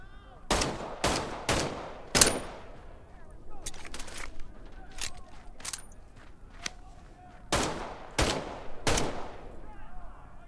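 Video game gunfire from Medal of Honor: Above and Beyond, a World War II shooter: sharp bursts of shots come in quick clusters, some rapid and automatic, with quieter clicks and game sounds between volleys.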